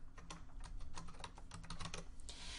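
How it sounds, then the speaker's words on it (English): Fast typing on a computer keyboard, a quick run of close, crisp key clicks with brief pauses and no voice. "I will type in Miss Teacher."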